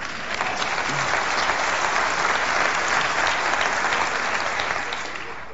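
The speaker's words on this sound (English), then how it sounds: "it's really exciting to be able to come to Macworld and be from Microsoft and actually get some applause" Sustained applause from a large audience at the Macworld Expo 1998 keynote in New York, dense clapping throughout that tapers off slightly at the end.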